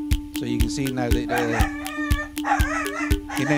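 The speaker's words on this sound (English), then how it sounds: "you hear my dog going mad in the background" A dog barks excitedly in the background of a room where a rhythmic electronic sequencer plays tonal notes and a voice talks, the barks repeated in short bursts and partly masked by the music and speech.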